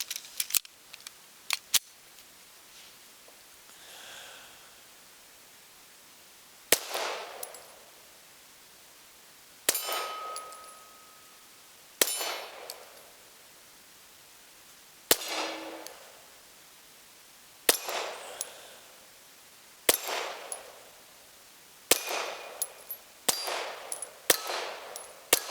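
Glock 19X pistol firing 147 grain ammunition: a string of sharp, loud shots arriving singly and in quick pairs, each with a short ringing decay, spaced across the stretch with quiet gaps between them.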